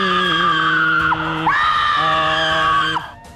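A woman screams as if in pain during a ruqyah, an Islamic healing recitation, giving two long, loud, close wailing cries that rise and fall in pitch with a short break between them.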